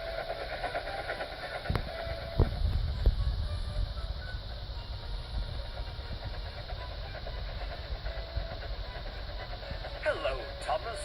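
Thomas, a blue steam tank engine, pulls his coaches Annie and Clarabelle along a branch line with a continuous rumbling chug and rail clatter, a few sharp clanks early on, under narration.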